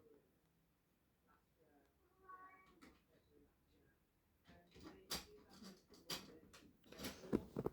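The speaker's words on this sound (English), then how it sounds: "My cat's fighting again with the cat flap." A domestic cat meows and tussles with a cat flap at home, giving a few faint, rising meows followed by louder irregular rattles, bumps and clatters, with no one talking.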